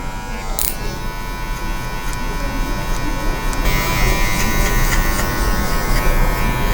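Electric hair clipper running at low speed while detailing a mid fade buzz cut with a 2 guard, a steady close buzz that grows slightly louder partway through.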